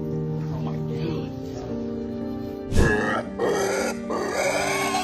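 A pig rescued from floodwater during Hurricane Ian grunts in short bursts, with a louder grunt near the middle, heard under steady background sound and voices.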